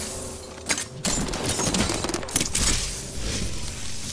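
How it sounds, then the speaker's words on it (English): Video game gunfire crackles in scattered loud bursts, a few sharp shots near the start, then a denser spray with some crashing, breaking sounds, all close and unaccompanied by talk. "Getting shot at."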